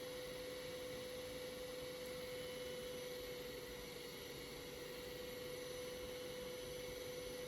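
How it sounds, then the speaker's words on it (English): Steady electric motor hum with a strong sustained tone over broadband noise, holding even and continuous while the circuit is tuned toward resonance with a capacitor. "And you can also tell by the motor pitch."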